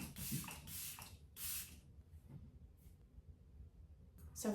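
A makeup setting spray mists on in several short hissing bursts near the microphone, separated by pauses and quiet handling, with a final spritz at the end.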